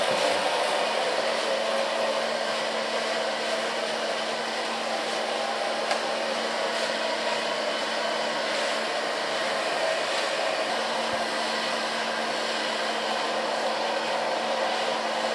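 A hair dryer blows steadily and loudly close by while hair is being dried and styled, a constant whooshing airflow with a faint motor hum and no talk.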